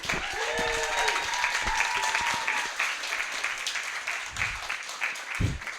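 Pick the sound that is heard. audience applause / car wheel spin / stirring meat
audience applause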